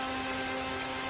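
Torrential rain in a cartoon falls as a dense, steady patter, fairly faint and uniform over a moment, with a faint steady tone underneath.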